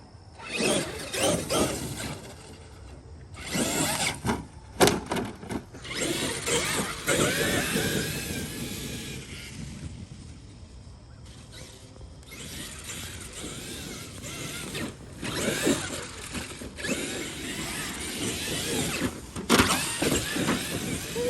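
Traxxas Xmaxx 8S RC car out on a test run, its motor whirring and whining in loud bursts with gravel-like rumble, surging and dropping repeatedly for about twenty seconds, no talking.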